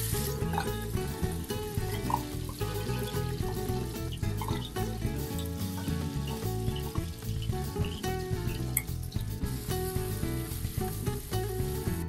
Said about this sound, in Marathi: आपलं तेल गरम झाल्यानंतर आपण जे वाटण ठेवलं होतं फ्राय करण्यासाठी ते त्याच्यामध्ये ऍड करून घेऊया